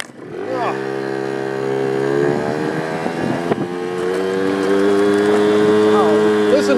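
Yamaha Towny scooter engine revving out in second gear, a loud steady buzzing drone that climbs gradually in pitch close by, with wind noise and no talk.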